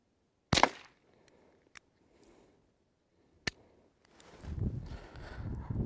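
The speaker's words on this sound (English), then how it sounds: "I'll shoot at the bottom right corner" CDM .22 rifle fired at a shooting range, one sharp close crack followed by a second shot a few seconds later, faint clicks between, then muffled handling noise.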